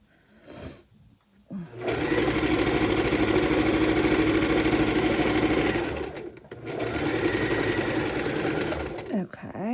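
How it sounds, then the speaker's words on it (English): A sewing machine stitches a quarter-inch seam around fabric squares on a folding table, running in two long steady whirring bursts with a brief pause between, a short voice before the first run. "we're going to go ahead and stitch 1/4 inch around all 4 sides"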